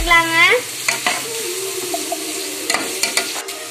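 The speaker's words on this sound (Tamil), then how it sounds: "வெங்காயத்தை நல்லா வதக்கி வச்சுங்க." Onions sautéing in a pan for an Indian-style veg pasta made in a cooker, with a steady close sizzle and a few scraping stirs, no talking.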